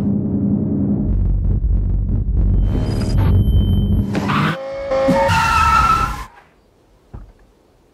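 A high-horsepower, not-for-sale 2019 Kia Forte drift car skids with a deep engine rumble, shifting revs and shrill tire squeal, loud and close, before the noise drops away to near quiet.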